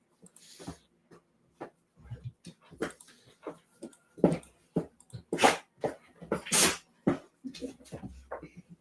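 A dog whimpers indoors in a room, making scattered short whines, sniffs and snorts with some breathing between them, up close and loud at times.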